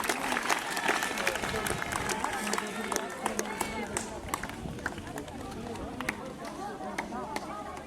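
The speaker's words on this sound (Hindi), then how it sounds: "एक बार तालियों की गड़गड़ाहट से इन बच्चों का सम्मान करें" A school event audience breaks into continuous applause for eighth-grade girl students, a busy wash of many hands clapping with some crowd noise mixed in, steady throughout.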